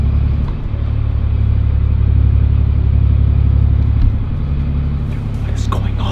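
A city bus drives on with a loud, continuous low engine rumble and road noise, and a few brief clatters toward the end.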